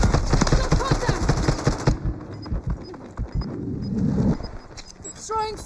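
Automatic gunfire rattles in a military shooter game, a loud fast burst of evenly spaced shots that stops abruptly, followed by quieter game sounds and voices.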